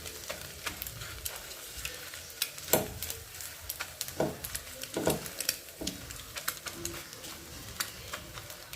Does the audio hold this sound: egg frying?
yes